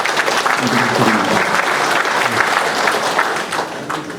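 Dense, sustained applause from a seated crowd at a public political gathering, loud and continuous for several seconds with some voices mixed in, easing slightly toward the end.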